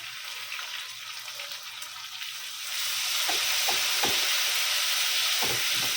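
Chilli paste hits hot oil already crackling with cumin, a bright hissing sizzle that swells louder partway through, with a few stirring scrapes in the pan and no talking.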